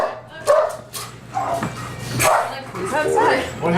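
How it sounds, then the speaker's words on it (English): A dog yips and barks several times, close and sharp, mixed with overlapping conversation from people around a table. "Probably another dog out there."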